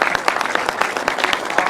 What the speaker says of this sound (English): a round of applause for second and third as well